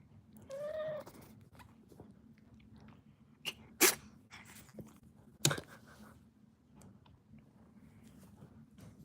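An old cat, a fourteen-year-old named Xavier, gives a short, close meow near the start, followed by quiet room sounds, soft rustles and a couple of sharp clicks or sneezes.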